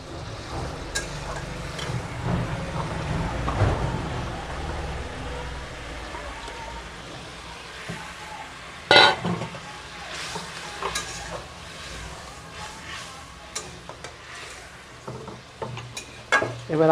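Amudi fish sizzling in a spicy curry as it is stirred, a steady frying hiss with scraping stir strokes and occasional sharper clinks of the utensil against the pan, close and continuous.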